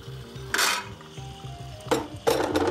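Gölevez (taro root) stew with chickpeas, stirred with a spoon in an open pot: bright scraping clinks against the metal come in bursts over a steady low sizzle.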